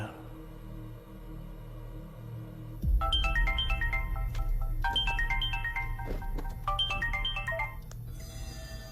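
A telephone ringtone plays a repeating electronic melody in three loud, clear bursts, starting after a few seconds of low background hum, with no talk during the ringing.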